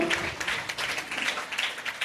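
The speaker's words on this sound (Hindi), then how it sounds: "जोरदार तालियां होनी चाहिए." Applause from a crowd at a school student awards ceremony, a steady wash of many hands clapping at moderate volume for a couple of seconds, with no talk over it.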